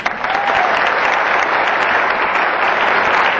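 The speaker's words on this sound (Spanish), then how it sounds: "Un aplauso para Alfonso." Dense, steady audience applause at a Colombian humor festival show, loud and continuous throughout with no talk over it.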